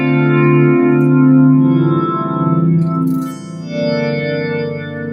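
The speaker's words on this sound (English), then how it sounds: "I can make the modulation on the reverb really thick. So now it's all underwater sounding." A sustained, shimmering guitar chord washes out in heavy, wavering reverb, giving a thick, watery, underwater-like tone with no voices.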